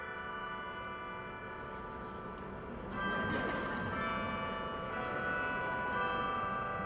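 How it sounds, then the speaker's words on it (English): A clock chime sounds the half hour at an outdoor law school commencement ceremony, its ringing bell tones swelling partway through and sustaining over a steady wash of crowd and ambient noise. "The 30 chimes are supposed to be shorter than the hour chimes."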